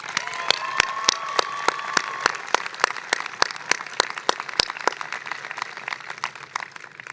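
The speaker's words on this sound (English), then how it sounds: "Graduates, let's give them a big round of applause." Graduates applaud their supporters at a University of Redlands undergraduate commencement: a large outdoor crowd claps and cheers, with sharp, loud nearby claps standing out over the broad wash before it tapers off.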